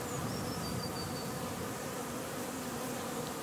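Honey bees buzz steadily and densely throughout, a continuous swarm-like hum with no talking.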